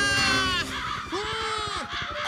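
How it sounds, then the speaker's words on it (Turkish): Several crows caw in a cartoon scene, harsh repeated calls overlapping loudly and close, with a rapid burst early on followed by longer drawn-out caws. "Dönmeye çalışıyorum ama kargalar izin vermiyor."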